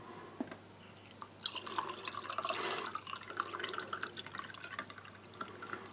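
Cold water trickles and splashes softly into a glass of sports drink, with a brief fuller pour in the middle and faint drips around it.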